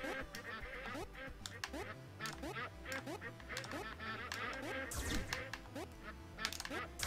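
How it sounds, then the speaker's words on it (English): Ducks in the video game Legend of the Brofist quack rapidly and repeatedly in a dense, overlapping chorus, loud and close over rhythmic game music, with a burst of noise near the middle. "Oh, fuck these ducks!"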